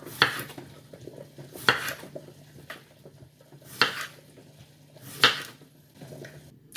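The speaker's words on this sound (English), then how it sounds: "I'm going to go with slices" A knife cuts a cucumber into slices for pickling, making five or six evenly spaced sharp taps on a board, close by and with no talking.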